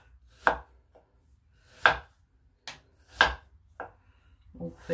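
A knife cuts apples into thin slices on a board for an almond-cream apple tart, leaving a few separate sharp chopping knocks spaced about a second apart, with quiet gaps between them.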